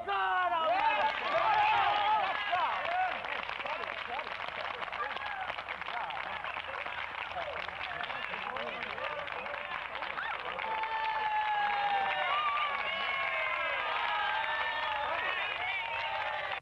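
A huge crowd at the 1963 March on Washington, gathered for the I Have a Dream speech, applauds and cheers in a sustained roaring wash of clapping and voices heard from a distance, steady throughout.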